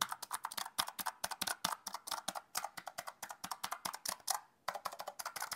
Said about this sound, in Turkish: Blue Switch'li bir klavye olduğu için sesi böyle bir tık yüksek